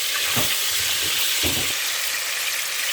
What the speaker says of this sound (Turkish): Etlerimizi böyle karıştırarak kavuruyoruz.